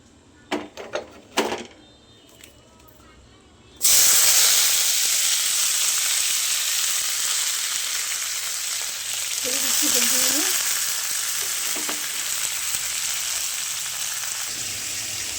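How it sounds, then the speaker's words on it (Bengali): Vegetables including brinjal and radish drop into hot oil and burst into a loud, steady sizzle of frying that holds for many seconds, after a few light clicks and knocks at the start. "এবারে সবজিগুলো সব এক এক করে এর মধ্যে আমি ছেড়ে দেবো।"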